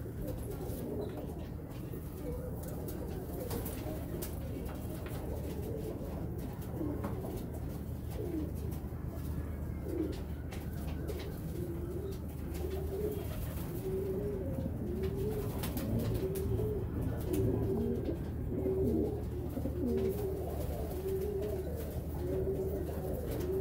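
Golden pigeons coo in soft, repeated rolling calls that rise steadily over a constant low background hum, close by and moderately quiet.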